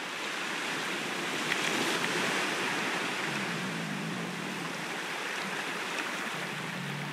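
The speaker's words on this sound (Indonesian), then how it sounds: "oh ombaknya juga lagi besar" Steady broadband wash of ocean surf from the survival game Raft, continuous and fairly loud with a soft low swell rolling beneath, no voices present.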